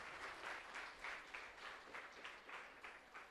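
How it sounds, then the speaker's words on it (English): An auditorium audience applauds at a school science day event, steady clapping spread across a crowd, heard faint and distant throughout. "Let's give him a huge round of applause."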